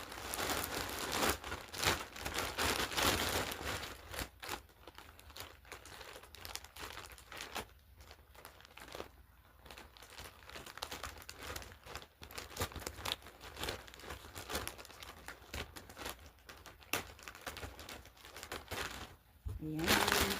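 A plastic Shein accessories package, including a phone holder, is crinkled and torn open, with steady rustling and crunching throughout and brief sharper tears near the end.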